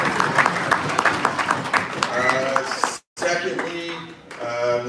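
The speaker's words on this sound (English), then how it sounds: "So round of applause for you guys." Applause from a crowd at a youth hockey year-end banquet, a steady patter of many hands clapping in a room, briefly cut off before resuming.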